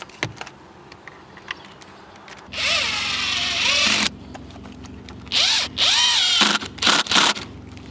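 Power drill driving screws into a boat's rub rail LED end cap, several short whirring bursts with pauses between, loud and close, with faint handling noise between runs.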